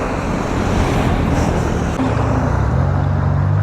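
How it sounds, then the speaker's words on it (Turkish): A car approaches along a quiet road near a land border crossing, its tire and engine noise rising into a steady roar mixed with heavy wind buffeting the microphone. "Hadi bakalım bir araba daha geliyor."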